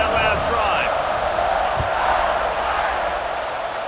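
Stadium crowd noise in EA Sports College Football 26, a broad steady roar with scattered shouts during a kickoff, running under a commentator's voice throughout.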